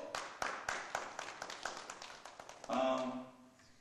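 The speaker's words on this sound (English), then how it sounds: "give her a round of applause" An audience applauds Senator-elect Doe Sheriff at a Minnesota gathering. The clapping is quiet and somewhat distant, with sparse, scattered claps that thin out before a voice starts speaking.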